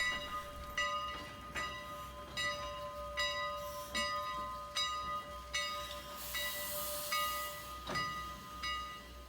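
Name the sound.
Strasburg Rail Road steam train returning to the station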